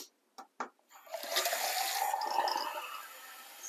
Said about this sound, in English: add a tin of water